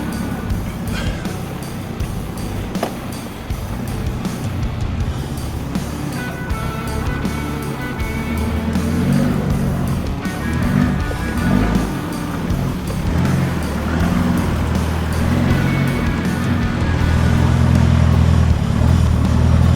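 A Mitsubishi Pajero 4x4 grinds over an off-road trail obstacle at Grabouw, its engine a loud, steady low drone with shifting rumble and mechanical clatter, building louder toward the end.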